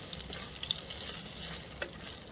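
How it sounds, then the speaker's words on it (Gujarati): Green chillies frying in hot oil over a country clay stove, a steady soft sizzle with faint crackles throughout, alone with no voices. "તેલમાં ફ્રાય કરવાના છે ને કાઢી લેવાના છે"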